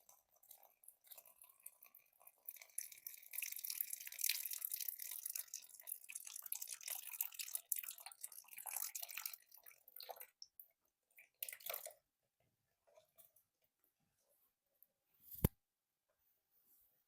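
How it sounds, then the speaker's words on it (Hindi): Water pouring through the nostrils during jal neti nasal cleansing, a quiet close trickle and dribble running for several seconds, then sparse drips and a sharp click. "पानी अपने आप एक नासिका से जाकर दूसरी से निकलता जाएगा"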